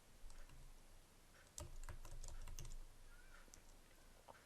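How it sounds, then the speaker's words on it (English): Quiet typing on a computer keyboard, a close run of irregular soft key taps with a few sharper clicks, with no one talking. "You can start typing"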